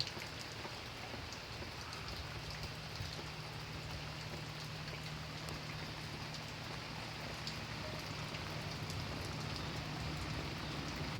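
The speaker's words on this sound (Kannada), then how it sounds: "ಫುಲ್ ಮಳೆ ಬರ್ತುಂಟು ನೋಡಿ, ಫುಲ್ ರೈನ್" Heavy rain pours steadily and densely without letup, a constant hiss of drops on surfaces with no voices.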